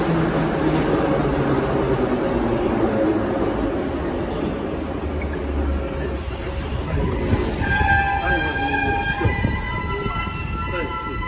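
A retro 81-717.5 "Sokolniki" metro train rumbles past on the Moscow Metro's Big Circle Line with steady rolling noise, and high squealing tones emerge near the end as it moves on.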